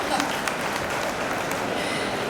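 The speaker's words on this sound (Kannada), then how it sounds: "ಸ್ವಲ್ಪ ಚಪ್ಪಾಳೆ ಹಾಕ್ರಿ ದಯವಿಟ್ಟು" An audience at a Teachers Day event gives a brief burst of dense applause, a steady wash of many hands clapping with a faint murmur beneath.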